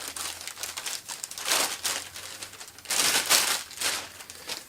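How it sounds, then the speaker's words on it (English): Close-up crinkling and rustling of plastic, coming in bursts as a bag around a PSB Imagine XB speaker grill is handled and unfolded, with no talking. "Some simple nicks on the plastic bag allows us to sort of unfold that and take from the bag the grill."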